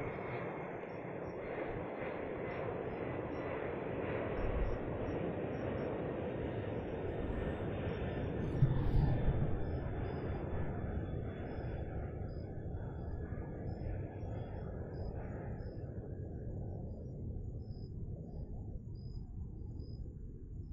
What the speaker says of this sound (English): Wait for the FedEx plane to go by.